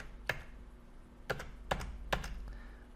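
Four separate keystrokes click on a computer keyboard as code is typed, quiet and close, spaced unevenly across a few seconds with no voices.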